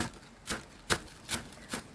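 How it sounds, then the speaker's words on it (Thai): Five crisp knife strokes slicing spring onions on a cutting board, evenly spaced about every half second, close and clear with no talking. "ต้นหอมล้างทำความสะอาดและซอยเป็นชิ้นเล็กๆไว้เลยค่ะ"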